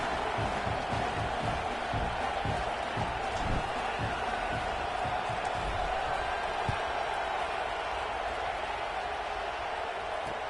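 A large football stadium crowd after a touchdown gives a steady, distant roar of mixed voices, continuous and fairly subdued without sharp cheers.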